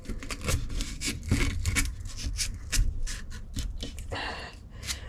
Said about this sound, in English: sanding the tubes